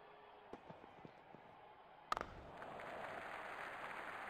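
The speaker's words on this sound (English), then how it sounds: "Crowd is going crazy." A cricket stadium crowd at a 2021 IPL match between Bangalore and Punjab reacts to a six: scattered faint knocks, then a sudden burst and a swelling, sustained roar of cheering and applause heard from a distance.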